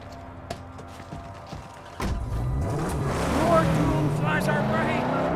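In the video game Mad Max, an engine rises in pitch as a car approaches, its drone getting louder and steadier after a quieter, sparse opening.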